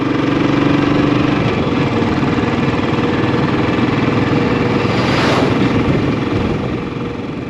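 A 2019 Royal Enfield Bullet 500 single-cylinder motorcycle with low mileage idles nearby, giving a steady, loud, even thumping rumble that fades slightly at the end, with no voices.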